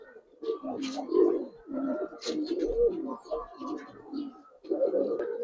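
Giribaz and colored pigeons in a collection cooing repeatedly, soft low rolling coos in overlapping bursts close by, with occasional faint higher chirps and brief noises between them.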